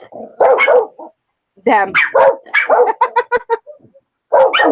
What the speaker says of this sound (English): the medium one and the little one are barking